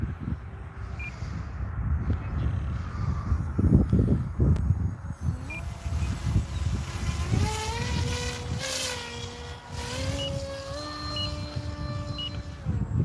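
An HLK-31 RC jet plane on its maiden flight, a steady engine whine that holds throughout, rising in pitch partway through as it passes, with outdoor wind noise underneath.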